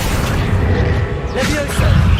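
A Confringo fire spell blasts in Hogwarts Legacy on hard mode, giving a loud booming burst with whooshing debris, followed by a second surge of impact noise. A voice speaks over the game sounds.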